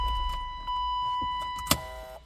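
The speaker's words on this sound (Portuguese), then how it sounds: "Olha a cigarra pitando." A key warning buzzer in a 1993 BMW E36 3 Series with a manual gearbox keeps up a steady, fairly quiet electronic tone, with a short clunk near the end.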